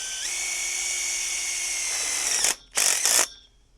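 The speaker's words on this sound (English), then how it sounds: "take my first self-tapping screw and go through the" A power drill drives a self-tapping screw through a metal tube strap into a purlin end on a high tunnel frame. Sustained high whine, then a brief drop and two short sharp revving bursts, close and loud.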